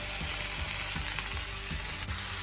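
Tomatillos, garlic and other vegetables char in a hot pan with a steady, close sizzle, broken by soft periodic scrapes and stirs for salsa verde; no talking.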